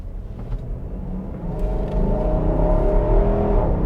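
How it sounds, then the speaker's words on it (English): A 2021 Nissan Armada SV, a big SUV with up to 400 horsepower on premium fuel, accelerates with a rising engine drone heard from inside, growing louder through the clip. "And this truck can really get up and go."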